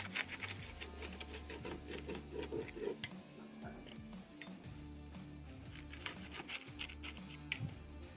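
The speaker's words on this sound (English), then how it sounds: "I'm going to cut them up and then we'll plate them." Knife cutting through crisp quesadillas on a board, a steady run of scraping, rasping slices close by, with clattering and handling noises between cuts.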